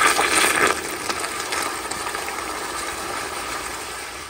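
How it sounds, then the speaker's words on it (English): A Zurn child-size 1.28-gallon toilet flushes on 1.6 pressure, opening with a loud close rush of water that settles into a steady, softer swirl and refill hiss, no voices. "and here's a flush."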